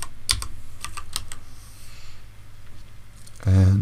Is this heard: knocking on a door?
no